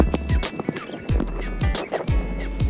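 Horse hooves clip-clopping in a steady rhythm close by as a horse is ridden along a beach at Cabo San Lucas, Mexico, with wind noise and a brief whinny-like sound, no talk.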